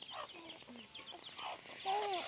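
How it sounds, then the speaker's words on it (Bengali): Village chickens pecking at cheap broken rice, giving off a string of short clucks and a few longer squawking calls, close and moderately loud, with faint background noise and no speech. "আর দেখো মুরগি চাল খাচ্ছে"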